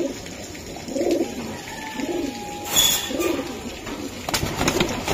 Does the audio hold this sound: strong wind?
no